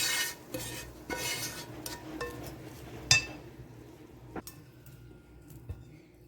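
Sweet vermicelli mixture for burfi being moved into a bowl, with spoon clinks and scrapes against metal and a few sharp knocks, fairly close and otherwise quiet.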